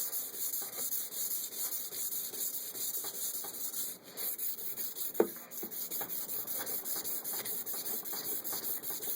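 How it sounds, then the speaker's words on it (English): Steady abrasive rubbing continues for several seconds as sandpaper removes bluing from a Mosin Nagant rifle's metal, a dense scratchy hiss with a faint background hum and one brief sharp click partway through. "Every so often, wipe it off with your sock and keep sanding."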